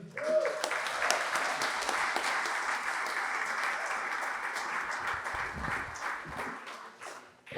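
A concert hall audience at a traditional music festival grand concert claps in a sustained round of applause that fades near the end, with a voice briefly heard under it.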